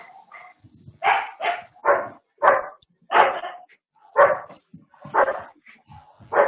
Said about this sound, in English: Yeah, the dogs here.